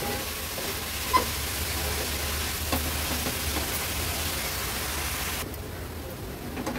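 Grated carrot sautés in ghee over a medium flame, a steady broadband sizzle close by with faint occasional stirring taps.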